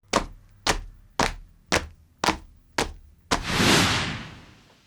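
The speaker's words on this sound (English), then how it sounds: "To layer the stomps, I used 3 different shoes." Six evenly spaced heavy stomps thud in a steady rhythm, layered from different footwear, followed by a longer rushing burst of noise.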